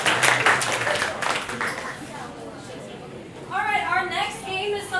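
Applause from a live audience at an improv comedy show, a scattered, moderate clapping that thins out as chatter and a speaking voice take over.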